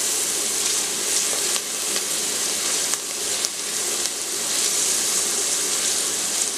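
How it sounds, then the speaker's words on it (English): Chopped yellow onions, fresh cilantro and other herbs and vegetables sauté in a pan for arroz mamposteao, giving a continuous close, bright sizzling hiss with faint pops and no talking. "Saute the herbs and vegetables for approximately 4 to 5 minutes, stirring occasionally"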